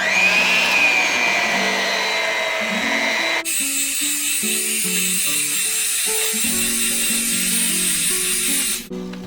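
Banana bread batter with buttermilk being mixed by an electric mixer, a steady loud motor whine that shifts pitch partway through and cuts off at the end.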